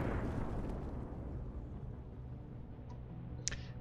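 A starship explodes in the space strategy game Endless Space 2, a deep rumbling blast that decays slowly over several seconds, followed by a faint sharp crackle near the end.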